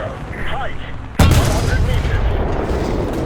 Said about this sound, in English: There's a KV-1 there shooting at us